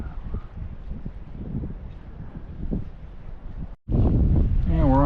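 Steady wind buffets the microphone on a cold morning at a fishing wharf, a continuous rough rumble that drops out briefly near the end before returning louder, with a voice joining at the close.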